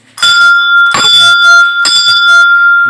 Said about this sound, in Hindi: और घंटी को बजाते हैं